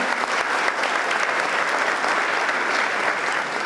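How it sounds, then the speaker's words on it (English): A crowd applauds at a Kosovo independence anniversary gathering in a city hall, steady dense clapping that holds loud and even for the whole stretch, with no voices rising above it. "so I want to give him a round of applause"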